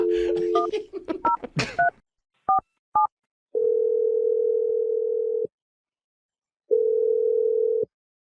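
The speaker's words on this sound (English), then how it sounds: "Dial the number." A telephone call is placed: a quick run of DTMF keypad tones, two brief beeps, then two long steady ringback tones separated by a pause, clear and close.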